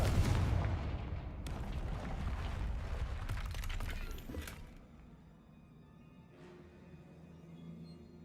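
A Confringo fire-blast spell from the video game Hogwarts Legacy goes off in a loud booming burst with crackling, shattering debris over the first few seconds, then fades into a quieter rumbling tail.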